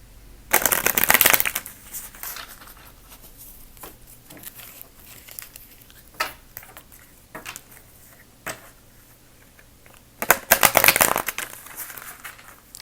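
A deck of tarot cards being shuffled in bursts, with loud riffling flurries at the start and end and softer taps and card slaps between them, close and clear with no talking.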